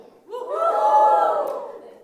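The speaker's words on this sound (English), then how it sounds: "It's such an apologetic cheer." A live conference audience at a stand-up comedy set gives a brief, half-hearted cheer, a swell of mixed voices that rises, holds for about a second and fades, moderately loud and close.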